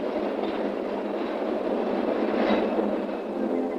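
A PATH commuter train runs past with a steady, loud rumble and roar, building slightly toward the middle, with no voices over it.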